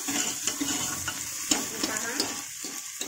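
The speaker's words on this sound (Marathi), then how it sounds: "4-5 मिरे टाकून घेणार आहे आणि थोडंसं हे चक्री फूल आहे ना, ते टाकून घेणार आहे। हे चांगलं परतून द्यायचं।" Black peppercorns and star anise stir-fried in a pan give a close, soft sizzle with repeated light scrapes and taps of stirring across a few seconds.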